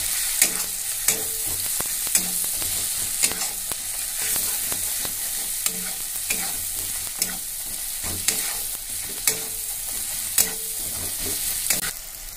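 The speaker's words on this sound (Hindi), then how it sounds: "अब इसको हम भून लेंगे।" Turmeric and mixed spices sauté in a pan under a constant sizzle, with regular scraping clacks from a spoon stirring against the pan every second or so, close and clear.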